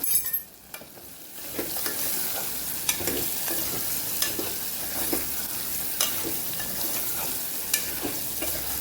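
Potato and tomato pieces sizzle loudly in hot oil with salt, a dense continuous crackle cut by regular scraping clicks as a spoon stirs the pan.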